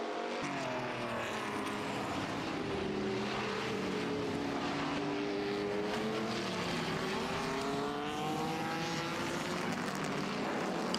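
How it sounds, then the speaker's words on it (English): Racing Porsches, a Porsche 906 among them, pass on the Estoril circuit during a classic race, engines rising and falling in pitch as they sweep by at a distance, a continuous blend of several cars with no talk. "one Porsche going past a much earlier Porsche, raced in similar races"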